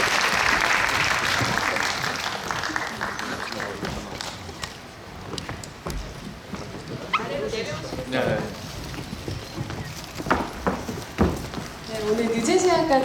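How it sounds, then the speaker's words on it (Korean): An audience in a CGV Apgujeong cinema hall applauds the cast of the film Special Citizen at a live talk event. Loud clapping fills the opening seconds, then thins out while people talk over it. "오늘 참석해주신 오늘 주인공분들께 박수 부탁드립니다"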